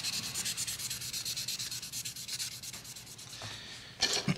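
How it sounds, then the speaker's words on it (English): Sandpaper rubbing a handmade Roman plectrum, quick repeated back-and-forth strokes in a close, even rhythm, then a few brief louder scrapes at the end, with no voices. "All right, so these things are sanded up as much as I need to sand them."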